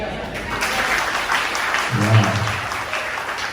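Church congregation clapping together in a steady, moderately loud wash of hands, with a brief voice or tone rising partway through.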